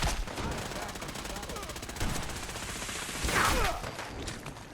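Repeated gunshots from a double-barrel shotgun in Fallout 4, with a louder burst near the end. The shots sit over busy game sound with some mechanical clatter and a whoosh.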